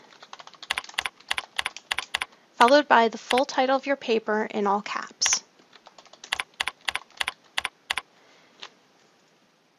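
Fingers type on a computer keyboard in Microsoft Word 2010, with quick bursts of crisp key taps before and after a stretch where a person talks, then trailing off into quiet.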